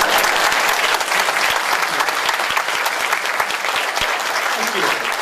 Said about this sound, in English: I had to ask for that applause